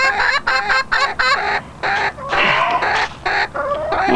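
Free-range hens cluck loudly and close, their rapid, choppy calls overlapping in bursts across the whole stretch with no voices.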